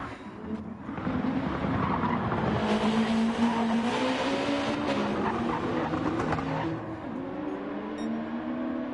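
Race car engine lapping the Nürburgring in Gran Turismo 7, a loud sustained roar rising and falling through the gears with brief tire squeal, steady and close throughout.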